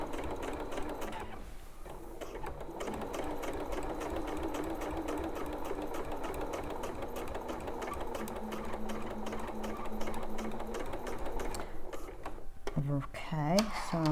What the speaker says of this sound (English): Okay, I just want to press my pedal and move.